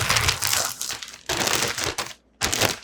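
A hat being stuffed into a plastic shipping bag, loud close crinkling and crushing of plastic in three bursts separated by short pauses, with no voices.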